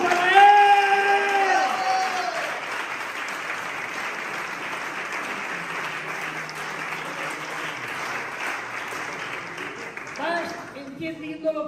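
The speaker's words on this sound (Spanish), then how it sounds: "¡Un aplauso para Él!" Church congregation bursts into applause and cheering after a sermon, a loud sustained wash of clapping with whoops and voices at the start, gradually thinning before fading out near the end.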